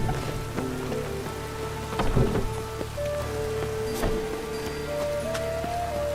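Steady rain in the video game The Witcher 3: Wild Hunt patters on surfaces, with occasional heavier drops and a faint low rumble beneath, continuous throughout.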